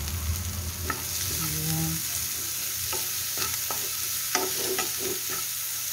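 Carrots and pepper are stir-fried in a pan, a steady close sizzle with scattered scraping and tossing clicks; a voice says one short word.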